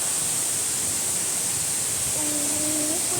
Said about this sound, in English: you can see the waterfall just right behind me